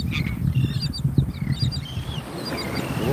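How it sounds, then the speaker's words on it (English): Nesting birds call at sunrise on the West Coast, with scattered chirps and whistles over a steady low rumble of background noise throughout. "These are cool birds."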